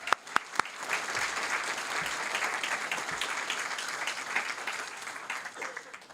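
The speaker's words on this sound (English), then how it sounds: "So, clap it up." An audience at a school district board meeting breaks into steady, full applause that holds evenly for about six seconds, with a few sharper claps near the start.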